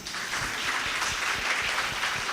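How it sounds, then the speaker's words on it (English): Applause from an audience at a training college's international student exchange program welcome, a steady wash of clapping with distinct nearby hand claps punctuating it throughout. "One more applause, please."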